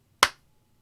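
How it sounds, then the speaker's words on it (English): One sharp, close hand clap rings out and decays quickly into silence. "and then we do the clap"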